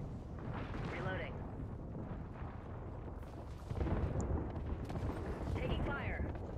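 Gunfire in a video game rattles in dense bursts mixed with rumbling booms, continuing steadily throughout, while voices talk over the shooting.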